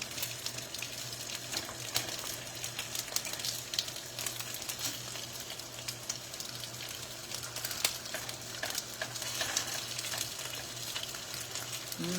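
Steady sizzling and crackling of vegetables stir-frying in a hot pan, continuous and fairly close, with occasional scraping, no voices.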